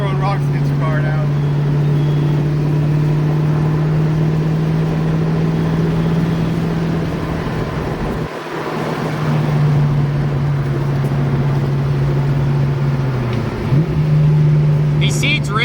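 A Ford Mustang driving with a steady, loud engine drone throughout, a brief dip in the middle, and faint scattered ticks that may be rocks striking the body, with no clear impacts standing out.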